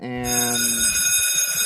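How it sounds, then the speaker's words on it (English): A loud, bright electronic bell rings on a game show set, sustained and ringing throughout with layered tones, while a host's voice starts speaking over it. "there's the bell."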